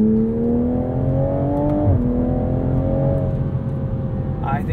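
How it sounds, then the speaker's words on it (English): Turbocharged 3.0-litre straight-six in a 2021 Toyota Supra pulling steadily from low revs with rising engine tone, one brief dip partway as revs drop and climb again, heard loud from inside the cabin. "Between the sound of the straight six and the little pops on the overrun, it makes all the right noises."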